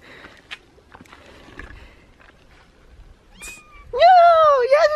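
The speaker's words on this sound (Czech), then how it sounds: "Už je z tebe venkovní kočka." A cat that has just been outdoors in snowy, rainy weather lets out a loud, drawn-out meow near the end, after quieter rustling and faint background talk.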